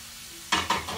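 Bitter gourd (ampalaya) stirred in a pan, silent at first, then two loud scraping sizzles of the stir-fry followed by a steady sizzle.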